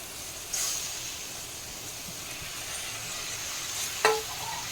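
Rice goes into a frying masala with peanuts in a pan, a continuous soft sizzle and hiss, then a sharper scrape and clatter of stirring near the end.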